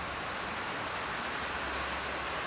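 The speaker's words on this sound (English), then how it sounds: "it's raining outside on the shed roof" Rain falls steadily on a shed roof, a dense, even hiss with no distinct drops or breaks, moderately quiet and alone.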